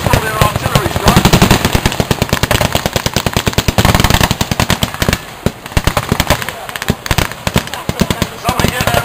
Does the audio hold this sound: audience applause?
no